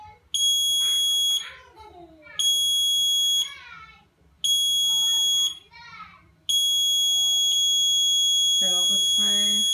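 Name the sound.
wireless countdown timer buzzer on P10 LED panel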